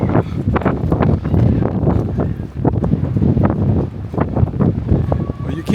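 Strong wind on the Atlantic coast of the Algarve in Portugal buffets the microphone in loud, gusty roaring bursts that keep rising and falling the whole time.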